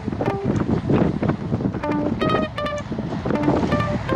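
Wind roaring across a microphone on a group cycling ride into a headwind, a steady loud buffeting rush with scattered faint tonal whistles and clicks from the bike.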